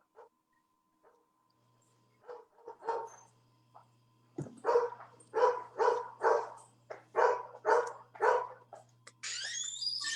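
A dog barks in a rapid series of loud, close barks after a few softer yips, with a low steady hum underneath and no speech.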